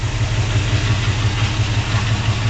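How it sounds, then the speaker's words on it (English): A 1964 Acadian Beaumont Sport convertible's engine idling steadily, a low throbbing rumble with a regular pulse, close and continuous, with no voices. "listen to this thing start up"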